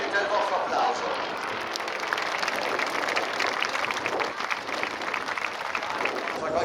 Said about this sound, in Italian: Bel applauso ragazzi al cuore di Jesolo.